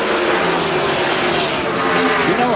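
NASCAR race cars at the 1997 UAW-GM Quality 500 roar down the backstretch in a steady, loud engine drone with rising and shifting pitches as the pack passes.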